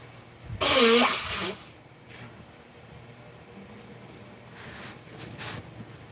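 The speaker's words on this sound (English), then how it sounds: "I gotta blow my nose" A person with a sneezy nose blows it once in a loud, honking burst lasting about a second, followed by a few fainter sniffs and soft rustling against a quiet room background.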